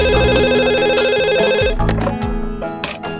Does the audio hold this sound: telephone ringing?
yes